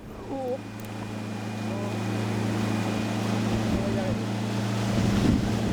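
A motorboat heading out across the water toward a small island, its engine a steady low hum that builds slightly, with wind noise on the microphone and a brief voice near the start.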